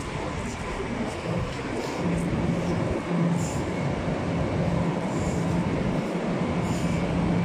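A Long Island Rail Road train at Penn Station, a steady loud rumble of rail cars with faint wheel squeal and clatter throughout, no voices.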